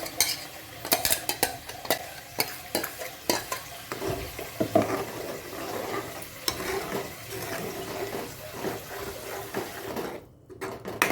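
Ground masala for kaju butter paneer masala fries in oil in a pan, its sizzle punctuated by frequent uneven scrapes and clatters of a spoon stirring it, close and fairly loud, with a brief quiet gap near the end.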